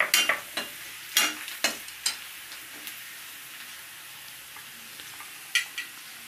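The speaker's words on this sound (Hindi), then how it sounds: "मसाले को लो फ्लेम पे ही अच्छे से भुनेंगे" Spice masala with red chilli powder roasted on low flame in a pan, a continuous soft sizzle with bright spatula scrapes clustered at the start and a few more near the end, no speech.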